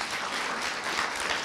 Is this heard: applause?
yes